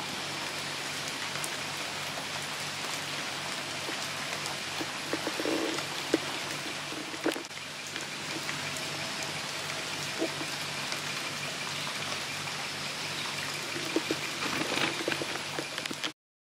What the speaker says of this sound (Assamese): বিৰাটেই ভাল বৰষুণ দি আছে